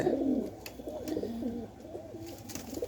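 Pigeons kept as pets coo close by in a continuous series of soft, throaty, rolling phrases that repeat without a break, with no voices over them.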